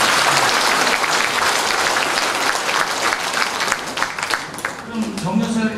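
An audience at an awards ceremony for veterans gives sustained, loud applause, a thick continuous clatter of many hands that thins toward the end as a voice begins speaking.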